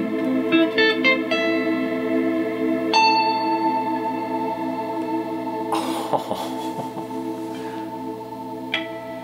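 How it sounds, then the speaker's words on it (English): Sustained guitar notes ring out in slow broken chords, drenched in long reverb that smears them into a lush wash; a few sharper plucks and scrapes mid-way. "really simple arpeggios that you can play with beautiful reverb"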